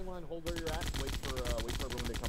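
Rapid automatic gunfire in ArmA 3 aimed at a turret, a fast steady stream of sharp cracks that stays loud for the whole stretch after a brief quiet moment at the start.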